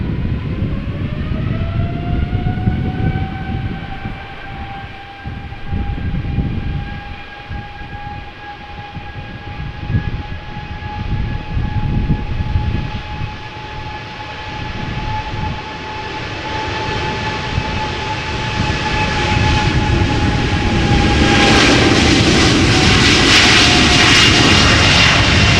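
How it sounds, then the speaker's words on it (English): A KLM Boeing 777-200ER departing Amsterdam Schiphol for Lagos produces a loud, sustained jet roar with clear whining engine tones that hold steady, then the noise swells into a broader rushing blast near the end. "KLM Flight 587 Boeing 777-200 going to Lagos"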